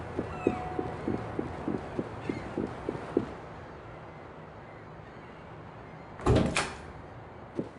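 A door in the SWAT 4 training facility, its heavy opening clunk and swinging rattle heard once near the end after a run of rhythmic footsteps and quiet room tone.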